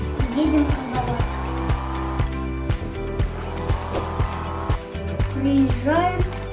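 A car engine hums steadily while driving in a hunting video game, with repeated short knocks and bumps along the way and occasional tire squeals, as a voice talks over it.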